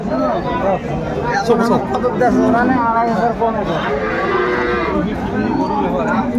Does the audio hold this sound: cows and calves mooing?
yes